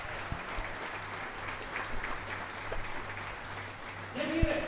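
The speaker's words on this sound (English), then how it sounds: "How many of you give a great round of applause?" A church congregation applauds steadily throughout, a dense, even wash of clapping held at moderate loudness, with a brief low thud near the end.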